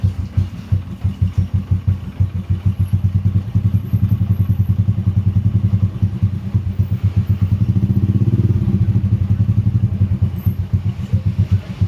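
A Honda Supra X 125 motorcycle engine, freshly oil-changed, idles steadily up close, its rapid even putter continuing throughout with no talking.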